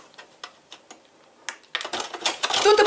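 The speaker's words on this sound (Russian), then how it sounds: "Натираем на терке." Chocolate being rubbed on a grater for an anthill cake: a few light ticks and taps at first, then a burst of louder, close, continuous rasping scrapes.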